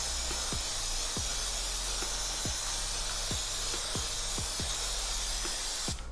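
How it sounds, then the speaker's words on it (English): CRC throttle body cleaner sprays onto a rag in one continuous close hiss, with faint low ticks beneath, during a throttle body cleaning on a 2014–2019 Toyota Corolla. "I'm just going to spray it down with some cleaner."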